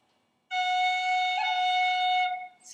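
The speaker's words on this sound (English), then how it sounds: "So here's an F roll." Bagpipe chanter playing an F roll with a G finger pip and E finger tap: one sustained bright reedy note with a brief ornament flutter in the middle, close and loud, then cut off, no talking.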